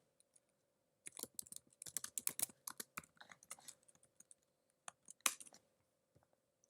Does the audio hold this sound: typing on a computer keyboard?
yes